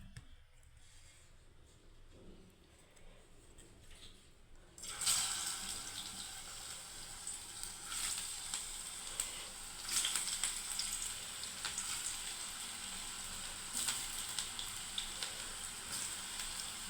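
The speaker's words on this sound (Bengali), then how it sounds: "এবার আমি তেলে ছেড়ে দিচ্ছি" Breaded cutlets frying in hot oil: a quiet start, then a sudden loud, steady sizzle once they hit the pan, with crackling bursts continuing close and evenly throughout, no talking.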